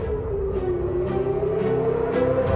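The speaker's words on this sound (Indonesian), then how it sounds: "sirine meraung di seluruh kota" Air raid sirens wail across an Israeli city, a steady loud tone holding and slowly bending under a rumble of low background noise.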